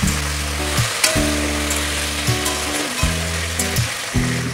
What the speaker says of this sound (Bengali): আলুগুলো আমি ভালো করে নেড়ে দিচ্ছি,